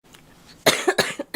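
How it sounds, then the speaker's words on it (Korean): A girl coughs in a quick series of four or five harsh, close bursts after a quiet moment, each loud and abrupt with short gaps between them. "아 이거 언제 끈다 이 기침 진짜"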